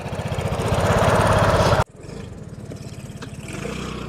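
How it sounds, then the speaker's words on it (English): A Vespa 150 scooter engine buzzes steadily and loud on a test drive with a rapid putter. It cuts off sharply partway through, then carries on more softly with a lower idle-like hum. "Time to take it for a test drive and see how this Vespa behaves."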